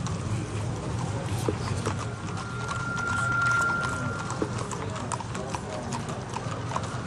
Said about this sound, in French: les bruits des chevaux